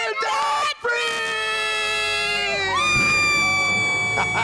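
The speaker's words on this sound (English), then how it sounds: "Let's hear a debt-free scream." A couple lets out a long, loud joint scream celebrating becoming debt-free, sustained shouting voices held for several seconds with a short gap early on, then crowd cheering underneath.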